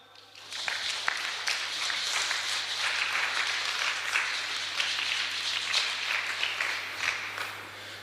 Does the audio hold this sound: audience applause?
yes